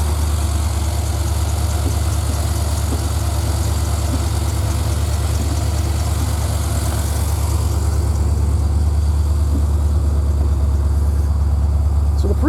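A 1984 Corvette Z51 with a swapped 5.3 LS V8 idles steadily, a deep, loud rumble with constant low vibration, close to the car throughout.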